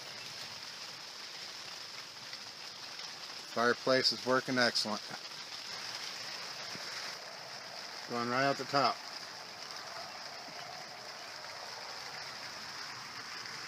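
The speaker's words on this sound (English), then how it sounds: "and it's pouring down rain." Steady heavy rain pours onto a tarp tipi shelter with a working fireplace inside, a continuous hiss running throughout the clip beneath two short bursts of someone talking nearby.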